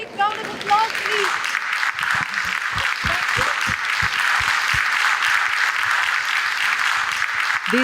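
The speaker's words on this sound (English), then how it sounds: "A big round of applause, please." A conference hall audience at a vegetarian congress applauds steadily, a dense wash of many hands clapping that holds throughout, with a voice speaking over it at the start.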